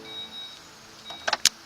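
An Audi A7 power tailgate closes with a soft motor whine, then two sharp latching clunks, one quickly after the other, heard close by in a quiet setting.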